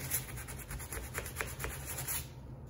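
Rapid, steady scraping strokes of wet sanding the underside of a C3 Corvette hood, a repeated rasping back-and-forth close by with no voices.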